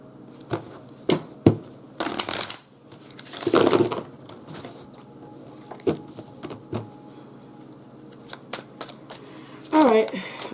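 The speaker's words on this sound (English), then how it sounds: "I'm going to go ahead and pull some cards to see what's next for these two." Tarot cards are shuffled and pulled by hand, making close, crisp riffling bursts and quick slaps scattered through the passage, alongside soft handling noises.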